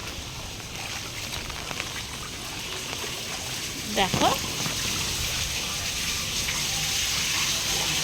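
During a flood in Hyderabad, rainwater from a flooded roof pours down a staircase in a steady, rushing gush, with a voice speaking briefly over it.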